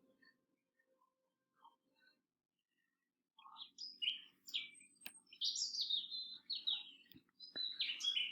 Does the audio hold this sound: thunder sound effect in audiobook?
no